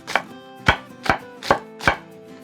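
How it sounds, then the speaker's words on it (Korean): A knife chops through the white ends of scallions on a board, five crisp, evenly spaced strokes at close range with no talk over them. "여기 하얀 부분은 조금 쫑쫑쫑 썰어주시면 돼요"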